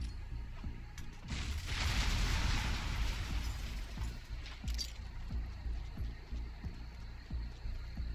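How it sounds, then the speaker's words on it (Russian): A grenade detonates near a storage depot on a military base in Hatred, a loud broad burst that swells and rumbles for a couple of seconds before fading into lower-level scattered game noise. "сюда гранату закинем"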